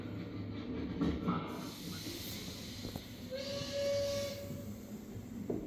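A steam train exhibit at the Civil War Museum in Kenosha, Wisconsin lets out a short, faint whistle tone over a continuous background hiss of steam, all fairly quiet and distant.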